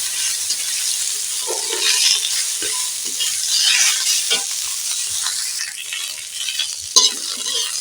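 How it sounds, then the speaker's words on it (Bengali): Malabar spinach leaves frying in a little oil in a wok, a loud busy crackle and sizzle throughout with occasional stirring and one sharp clink near the end. "অল্প করে কোঁড়ায় তেল দিয়েছি পুলি পাতা খুব ফুটবে ফটফট ফটফট"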